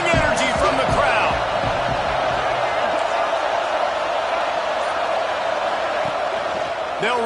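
A football stadium crowd roars steadily on third and goal in a Texas A&M versus Clemson game, a dense, loud wash of cheering with a few sharp whoops and thuds early, the noise holding throughout.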